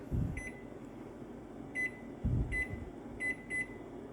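Kitchen timer being set in a home kitchen while beef and vegetable soup cooks, giving short high electronic beeps singly and in quick pairs, with a few soft knocks and thuds between them.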